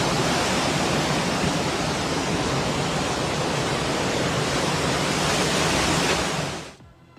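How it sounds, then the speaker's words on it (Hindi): Flood water rushing and carrying large boulders during a Nepal-to-Tibet flood, a loud, dense, steady roar filling the whole clip before cutting off abruptly near the end. "ये बड़ी बड़ी जो चट्टानें हैं, ये भी इस पानी में कैसे बहती हुई चली जा रही हैं"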